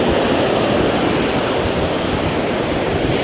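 Steady broadband roar of ocean waves washing onto a beach in Hawaii, continuous and fairly loud with a windy hiss throughout and no voices.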